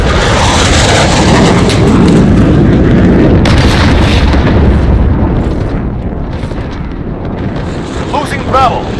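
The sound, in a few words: cruise missile explosions in Call of Duty Modern Warfare video game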